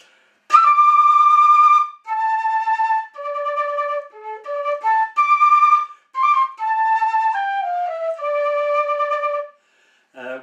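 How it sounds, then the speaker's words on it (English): A cane flute played with throat vibrato, a run of bright, wavering whistled notes in short phrases separated by brief gaps, close and solo. "On the cana, you use throat vibrato, which is to say that you you kind of wobble your throat very rapidly."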